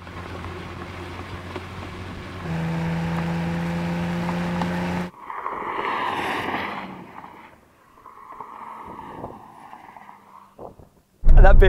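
A new Mercedes-AMG C63 pulls away in a race against a BMW M3 and Audi RS4, its engine a steady, strained drone that cuts off abruptly, followed by wind buffeting and a voice speaking.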